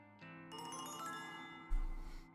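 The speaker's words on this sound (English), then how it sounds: "My phone begins vibrating violently in my back pocket." A mobile phone rings from a back pocket with a bright, melodic ringtone, then a loud low vibrating buzz joins near the end, close and continuous with no talk.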